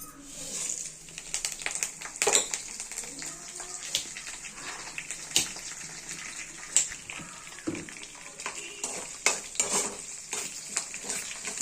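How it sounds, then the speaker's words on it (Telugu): Tempering spices crackle in about four spoons of hot oil, a hissing sizzle dotted with frequent sharp pops and clicks of a spoon against the pan, steady and close throughout. "ఇప్పుడు తాలింపు సామాను వేసుకుందాం"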